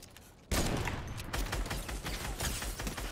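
Rapid gunfire from an online shooter game erupts suddenly after a quiet half second, then continues as a dense, loud burst of rattling shots.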